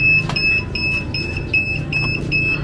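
An alarm on a powder coating oven beeps repeatedly in a fast, steady, piercing electronic pulse, loud and close, over a low background hum.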